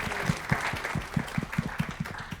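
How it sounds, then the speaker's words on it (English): Applause from a meeting audience for Ghana, moderately loud with individual claps audible in a loose rhythm over a soft room background. "Can we applaud Ghana for that?"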